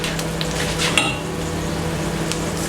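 A hamburger patty is flipped on a hot cooking surface and keeps frying, giving a steady close sizzle with a brief scrape and clink of the spatula near the start.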